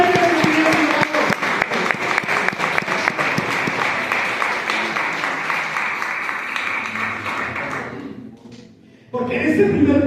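Church congregation applauding loudly and continuously at a Christian worship service, a dense wash of many hands clapping that fades near the end before a brief burst returns.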